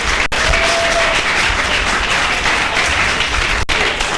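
Audience applause at a Cape Coral city political forum, a steady wash of many hands clapping together, moderately loud and sustained for the whole stretch without a break.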